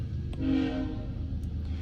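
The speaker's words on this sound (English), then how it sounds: "Maybe that train will stop being loud as heck for no reason." A loud train passes nearby, its horn sounding a steady drawn-out tone over a continuous heavy rumble of rolling wagons, with no talk over it.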